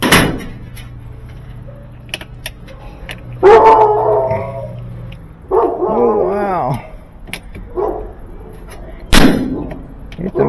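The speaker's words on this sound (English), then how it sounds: "One dog starts barking and they all bark." Several dogs bark and yip in short bursts from nearby, with clangs and door-like knocks between them during washing machine repair work.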